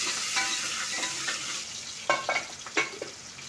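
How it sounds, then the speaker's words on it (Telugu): Curry leaves and green chillies frying in hot oil after mustard seeds, cumin and asafoetida, a close, continuous sizzle with a few sharper crackling pops as the pan is stirred. "జీలకర్ర ఇంగువ కొద్దిగా వేయించిన తర్వాత కరివేపాకు వేసి పచ్చిమిరపకాయలు"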